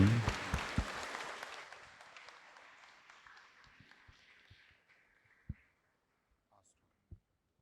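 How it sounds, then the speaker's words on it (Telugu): A church congregation bursts into loud, dense applause at a blessing ceremony; the clapping fades steadily over several seconds into scattered final claps and near silence. "అందరూ కూడా గట్టిగా చప్పట్లు కొట్టి దేవునికి స్తోత్రం."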